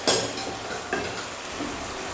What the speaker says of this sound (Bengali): বরবটিটা দেওয়ার পরে আমি যেটা করবো, এটা একটু নেড়ে চেড়ে নিই।